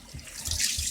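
Water rushing from a newly installed Moen one-handle tub spout shower valve during a hot-water test, a steady hiss that swells slightly over one second.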